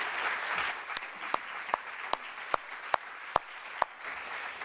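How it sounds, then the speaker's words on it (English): An audience at the 2015 Health Disparities Roundtable applauds, a soft, even background of clapping with one nearby pair of hands striking sharp, regularly spaced claps about twice a second. "Please, let's give them a round of applause for doing this work together."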